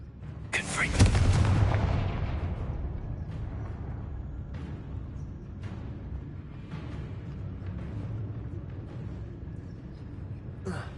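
A Confringo fire spell goes off in Hogwarts Legacy with a single loud, booming blast near the start that fades into a long rumbling tail, followed by softer game effects.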